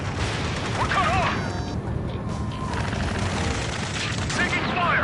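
Gunfire and explosions in the combat flight game Ace Combat 7, a loud, continuous barrage of booming shots with radio chatter voices over it.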